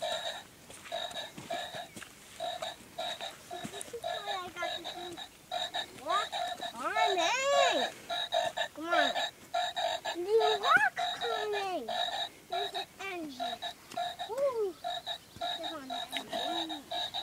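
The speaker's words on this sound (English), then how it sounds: "Got three croaking frogs." Several frogs croak at a pond, their uneven bubbling calls rising and falling over a steady outdoor background. The croaking is moderately near and carries on without any talk.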